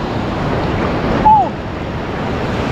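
Sea waves roll onto the shore at Indira Point on the southern tip of India, a steady loud wash of surf and wind with one brief higher tone near the middle.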